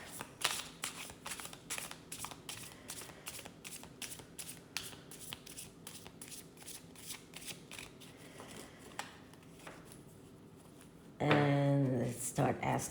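A deck of cards being shuffled close up: a long run of crisp, rapid riffling clicks, followed by a brief louder burst where a voice comes in at the end.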